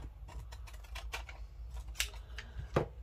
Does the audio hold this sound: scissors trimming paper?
yes